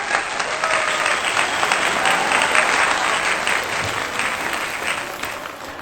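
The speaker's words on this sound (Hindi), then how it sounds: "तालियां बजती रहनी चाहिए।" Sustained audience applause at a school prize distribution, a dense even clapping from a crowd that carries steadily throughout and tapers slightly at the end.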